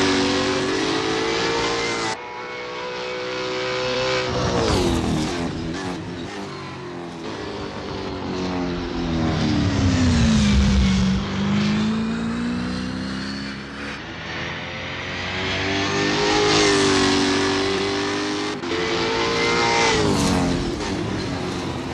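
A V8 supercar in Assetto Corsa roars through a lap at Symmons Plains, its engine note rising and falling steadily through gear changes and throttle, loud and continuous with no voices.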